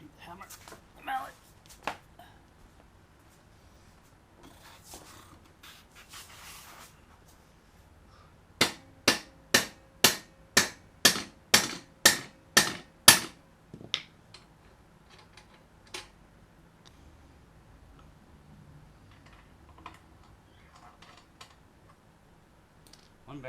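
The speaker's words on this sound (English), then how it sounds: "I need the hammer, the mallet." A mallet strikes metal on a Mighty Moto minibike wheel to free the bearings, a run of about ten evenly spaced sharp knocks in quick succession, with scattered taps and handling noises before and after.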